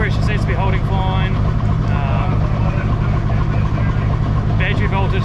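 Toyota Supra drift car engine running steadily and loud throughout, a dense rumble with people talking over it at a drift practice day.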